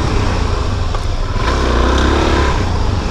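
Motorcycle riding down a road shoulder, its engine droning steadily up close under heavy wind rush, loud and continuous with no break.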